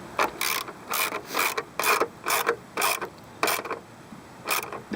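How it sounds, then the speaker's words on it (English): A ratchet clicks in repeated quick bursts as it snugs down the fog light nuts on a Mazda B3000, about eight short strokes close up with brief pauses between them and no talking. "so now we'll tighten it with the ratchet"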